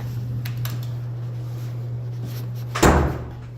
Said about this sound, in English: Go ahead, pull the door.